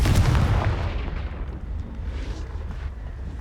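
The Confringo fire spell explodes in the video game Hogwarts Legacy: a loud, booming burst at the start rolls off into a fading rumble.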